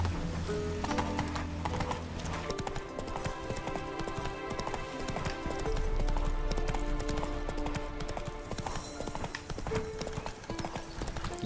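Geralt's horse Roach in The Witcher 3 trots with a steady, continuous clip-clop of hooves and lets out neighs and whinnies, all over a dense game soundscape.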